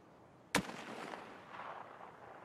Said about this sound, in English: Someone's shooting behind us.